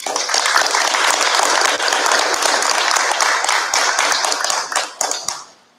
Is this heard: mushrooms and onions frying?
no